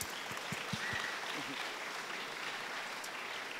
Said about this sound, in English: please, a round of applause for all of you entrepreneurs out there